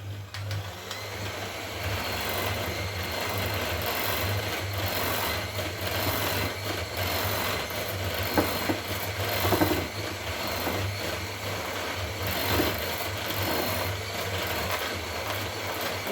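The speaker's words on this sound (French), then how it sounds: "je fais la vitesse avec mon batteur" An electric hand mixer beats apple cake batter with chocolate chips on the way, giving a steady, continuous motor hum with a low drone throughout, close by and unbroken.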